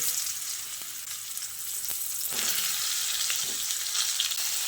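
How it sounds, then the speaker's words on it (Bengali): Steady, close crackling sizzle of pointed gourd frying in hot oil, a continuous hiss with occasional small pops and stirring clinks. "আলুটা ভাজা হয়ে গেলে ওই তেলের মধ্যে আমি পটলগুলোকে দিয়ে দিচ্ছি।"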